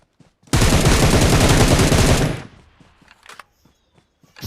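A long, loud burst of automatic gunfire in the PUBG BGMI battle royale game on the Erangel map rattles out for nearly two seconds, then gives way to faint scattered taps and footsteps.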